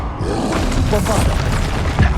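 A Bombarda spell blast in Hogwarts Legacy, a dense booming burst filling the short stretch, with other spell effects and a voice nearby.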